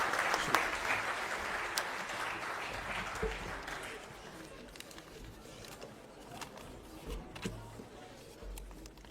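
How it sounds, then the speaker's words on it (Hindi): Applause breaks out at a political rally in Delhi to welcome Ashok Gehlot, loud at first and then fading under a speaker's amplified voice, with pigeons cooing nearby. "जोरदार तालियों से स्वागत"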